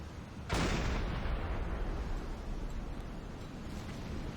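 A sudden heavy blast bursts out in the video game Silent Hunter 5 during a submarine attack, followed by a long, rolling rumble that slowly fades but keeps a loud, steady roar underneath.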